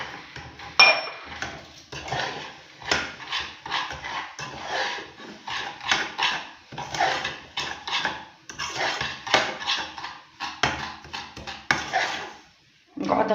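Dessert ingredients get mixed in a bowl with a utensil, giving repeated scraping and clinking strokes in an uneven rhythm at moderate volume, with no other sounds.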